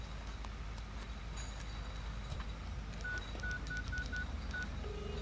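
Telephone keypad dialing tones, a rapid run of short, evenly spaced beeps over steady low background hum, fairly faint, with no talking.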